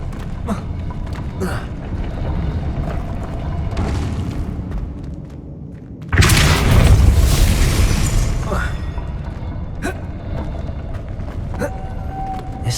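Confringo and Depulso spells are cast in the Hogwarts Legacy video game, a sudden booming blast erupting midway among smaller magical pops and game effects, with a steady game ambience underneath.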